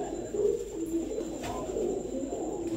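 Giribaz pigeons coo at a breeder's loft, soft repeated throaty coos close by, layered over a low steady background hum.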